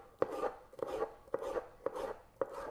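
A knife thinly slicing red capsicum on a cutting board, five crisp evenly spaced cuts in a steady rhythm, close and fairly quiet, with no talking.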